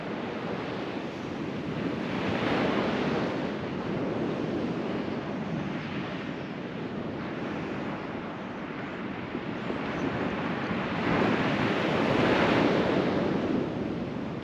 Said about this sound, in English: You can just hear the sea, just the sea, no else.